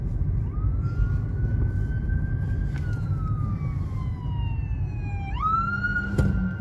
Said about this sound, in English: And there's an ambulance is coming.